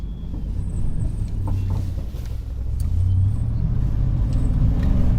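A toy Ford monster truck drives through bushes, its motor giving a continuous low rumbling whir close up, with brushing and rustling from the foliage and a few small knocks along the way.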